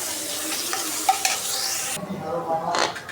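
Onions sizzle in a pan while a utensil stirs and scrapes them, the frying hiss dropping off near the end.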